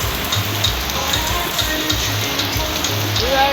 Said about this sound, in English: Now it is raining.